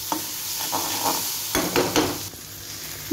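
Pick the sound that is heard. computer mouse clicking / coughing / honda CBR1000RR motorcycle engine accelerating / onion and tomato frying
onion and tomato frying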